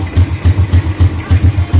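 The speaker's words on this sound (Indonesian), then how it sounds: "maka dia otomatis hidup, sekaligus otomatis starternya." A Honda Vario 150 scooter engine, started by remote alarm, idles with a steady low, rapid chugging pulse close by, with no one talking.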